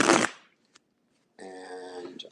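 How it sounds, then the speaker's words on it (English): Tarot cards being shuffled: a short riffling burst at the start, a brief pause, then a second buzzy, fluttering run of cards, close and fairly quiet. "And that was a bad shuffle."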